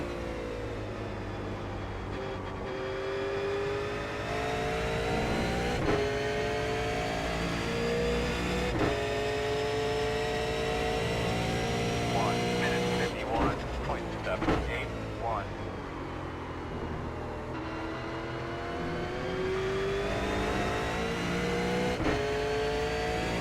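V8 Supercar race engines roar around Watkins Glen in an iRacing sim, a loud in-car engine note climbing and dropping through gear changes, with a spinning car's brief screech mid-run and someone speaking over it.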